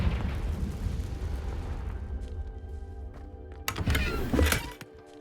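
A Confringo blasting spell from Hogwarts Legacy goes off in a dusty room. A rumbling low roar fades out, then a sharp, bright burst and crackle arrive near the end.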